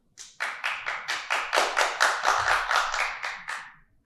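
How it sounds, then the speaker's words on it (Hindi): Steady rhythmic hand clapping from an audience during an interview podcast, about fourteen sharp, evenly spaced claps close to the microphone with no talking. "इतनी जोरदार ताली पीट रहे हैं कि सबको ताली बजानी पड़ रही है"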